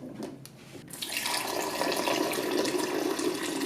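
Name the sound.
cold water filling coffee maker reservoir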